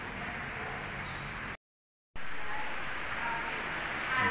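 Rain falling steadily outdoors, a dense even hiss of drops that breaks off briefly into silence before resuming, with no voices.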